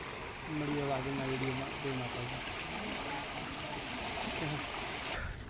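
Steady broadband rush of fast-flowing Saraswati River floodwater near Sidhpur fills the clip, with someone talking over it for much of the time.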